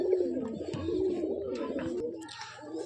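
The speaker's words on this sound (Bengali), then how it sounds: "এই যে বন্ধুরা আর একটা গিরিবাজ পায়রা, বিশাল ছটপটে, এটা নর পায়রা" A male Giribaz pigeon coos up close, its low, throaty calls repeating steadily with no talk over them.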